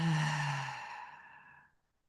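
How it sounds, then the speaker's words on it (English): A single slow, meditative exhale, a soft, breathy voiced sigh close to the microphone that gradually fades into silence. "Breath in, breath out."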